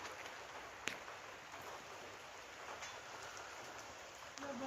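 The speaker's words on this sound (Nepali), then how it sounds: "पानी पर्दैछ।" Light rain in the month of Mangsir falls steadily outdoors, a soft continuous hiss with a few sharper drips and taps, fairly faint and without talk.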